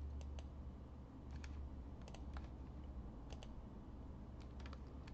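Sharp, scattered plastic clicks from a computer mouse or keyboard at a dental design workstation, single and double taps spread unevenly over a steady low room hum, close and fairly quiet, with no voices.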